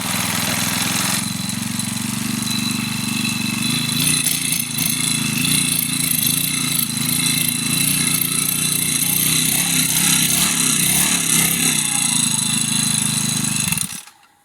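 An oily four-stroke lawn mower engine runs steadily close by with a rough, rattling drone, holding constant for over ten seconds before cutting off abruptly.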